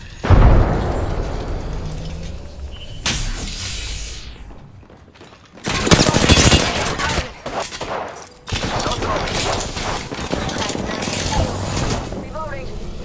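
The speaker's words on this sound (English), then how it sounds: "Grenade." A grenade blast and rapid gunfire crack through a competitive shooter game, with bursts of loud explosions and volleys of shots separated by short gaps, while a voice calls out over the action.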